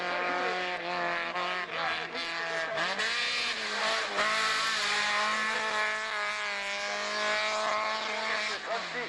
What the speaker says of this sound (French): avec son imposante Opel, l'Opel jaune et blanche numéro 17